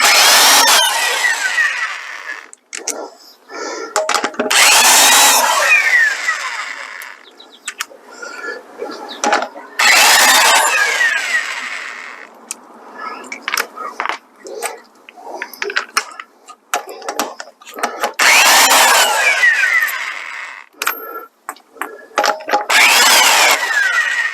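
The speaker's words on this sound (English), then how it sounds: "All that's left is to take the lug nuts off." A Chrysler 300C on jack stands has its wheel lug nuts removed with a power tool: loud, close bursts of mechanical whirring and rattling, several seconds each, separated by short pauses, with no talking.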